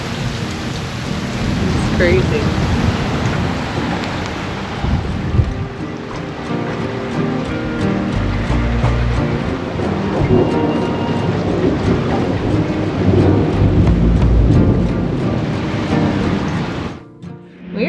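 Heavy rain and wind roar loudly and steadily during a thunderstorm aboard a boat in the Bahamas with three-foot waves, deep rumbling and water sloshing; a person speaks briefly near the end.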